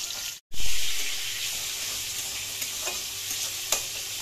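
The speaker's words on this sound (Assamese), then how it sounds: "লোকেল মুরগি বনাই আছো মই, আৰু এফালে মায়ে মাছ ফ্রাই কৰি আছে।" Local chicken cooks in one pan while fish fries nearby, making a loud continuous sizzle that starts abruptly after a brief silence, with a few faint clinks and no voices.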